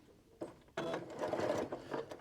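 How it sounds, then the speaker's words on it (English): A sewing machine runs in short bursts while stitching a pocket seam with a 2 centimetre allowance, a quick starting whir followed by a longer rapid mechanical chatter, fairly quiet and close, with no talk. "So we're at the sewing machine now, and we're going to use the 2 centimetre allowance to get these 2 edges sewn up."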